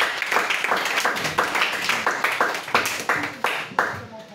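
A church congregation claps steadily in rhythm for Jesus during a worship service, a dense, lively wash of hands close and loud, with voices mixed in.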